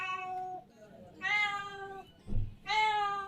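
A cat meows three times, drawn-out and tonal, with short pauses between calls and a brief thump in the middle.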